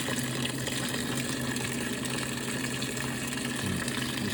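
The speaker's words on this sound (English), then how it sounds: "So here it is, hot water for a load of whites." Washing machine filling with hot water for a load of whites, a steady, even rush of water with a low mechanical hum underneath, constant and fairly close throughout with no talking.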